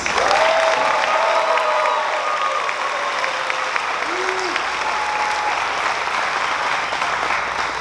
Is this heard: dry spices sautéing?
no